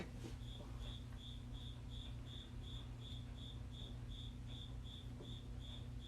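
A loud cricket chirps steadily in rapid, evenly spaced pulses close by, over a constant low hum, with no talk.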